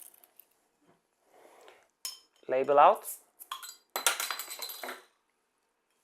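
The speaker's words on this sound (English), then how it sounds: "But let's get it into a glass." A homebrewed Double IPA bottle clinks and taps against a glass as the beer is poured, with crisp close knocks and a brief rattle, and a voice speaks a few words between them.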